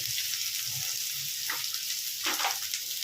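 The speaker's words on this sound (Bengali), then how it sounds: "এই করে আমি আলুটাকে ভেজে নিচ্ছি।" Potatoes dusted with turmeric fry in oil with a soft, steady sizzle, close by and moderately quiet, with a couple of brief stirring or scraping sounds.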